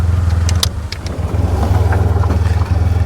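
A right-hand-drive Austin-Healey Bugeye Sprite, a small car of a type built from 1958, drones steadily at close range from inside the moving car, its low engine note continuous with slight dips.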